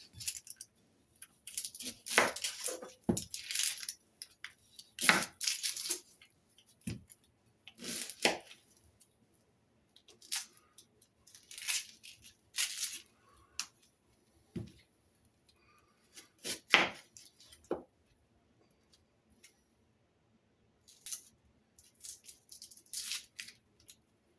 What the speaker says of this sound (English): Start off with an onion, chop it